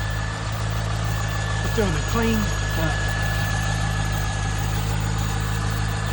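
A 1999 C5 Corvette's 5.7-litre LS1 V8 idles steadily with a low, even hum close by, while someone talks over it.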